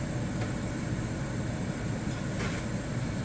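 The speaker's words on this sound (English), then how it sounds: "I'm sorry about the noise with the air fryer" Air fryer running in a home kitchen, a steady broadband whooshing fan roar, constant and close with no talk.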